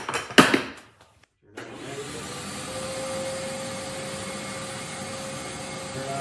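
A CNC router fitted with a quarter-inch down-cut bit cuts the profile of a Strat guitar body. A brief knock and a short pause give way to a loud, steady, high whine.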